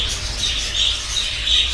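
High-pitched chirping from budgerigar chicks in a nest box, a continuous thin twittering close by with steady low background rumble.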